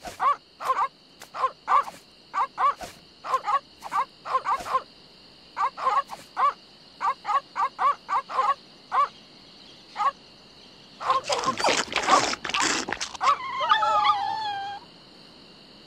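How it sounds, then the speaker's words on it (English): Dogs in The Secret of Monkey Island game making repeated short, rhythmic yelp-like calls, then a dense burst of overlapping barks and howls, under a constant electronic tone. "These dogs are not dead. They are only sleeping."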